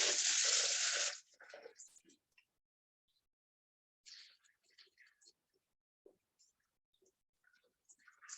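Brine is poured from a pot over a turkey sitting in another pot, a loud, close gush of liquid for about a second, followed by scattered small splashes, drips and clatter with quiet gaps.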